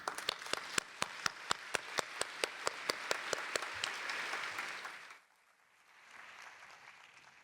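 An audience applauds a keynote speaker, architect Shigeru Ban, with one person's sharp, evenly spaced claps standing out over a steady wash of clapping that swells, then stops abruptly, leaving quiet room tone.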